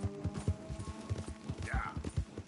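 Horse hooves clip-clop at a steady trotting rhythm in the Red Dead Redemption II game world, close and fairly quiet, with a brief whinny-like sound partway through.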